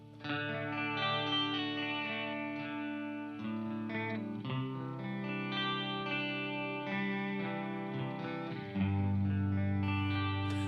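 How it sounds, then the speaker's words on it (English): Electric guitar run through a Non-Human Audio Benson Florist chorus pedal at low intensity, playing sustained chords and notes with a gentle shimmering modulation, loud and steady with a heavier chord near the end. "that chorus starts to stand out more"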